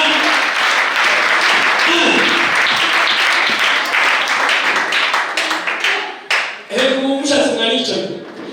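A church congregation applauds loudly with sustained clapping that thins out and breaks into scattered claps as voices start talking near the end.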